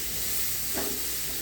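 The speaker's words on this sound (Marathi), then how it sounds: "आता त्याच्यामध्ये मी कांदा घालून घेणार आहे। कांदा थोडासाच परतायचा आहे।" Onion sizzling in a hot pan while being sautéed for masala sweet corn, a steady close hiss and crackle with a brief louder burst partway through, no voices.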